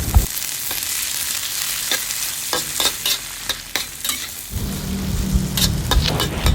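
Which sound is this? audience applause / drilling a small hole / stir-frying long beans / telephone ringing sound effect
stir-frying long beans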